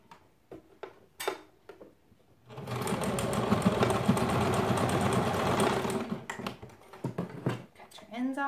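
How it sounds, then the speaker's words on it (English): Sewing machine stitching a fabric strip shut for a DIY baby car seat canopy cover, running in one steady buzzing burst of about three and a half seconds between short bursts of talk before and after. "And then we're just going to sew that shut so we have one little strip."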